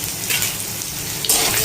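Chopped garlic and ginger fry in hot oil, giving a steady, close sizzle with faint clinks of a utensil and a brighter burst of crackle near the end.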